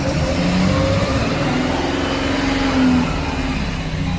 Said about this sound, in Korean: 한번 불악셀 한번 밟아보시죠